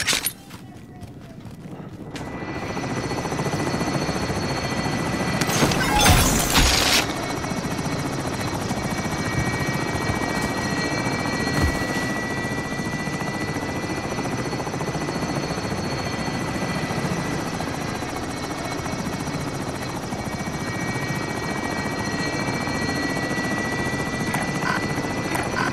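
Helicopter hovering in Call of Duty: Modern Warfare, a loud steady rotor drone that runs continuously throughout, with a brief burst of noise near the start.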